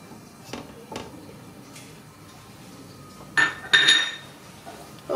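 Metal pot set onto a home stove while making Moroccan roast chicken, giving a couple of close, bright clanks and clinks after a few soft kitchen taps.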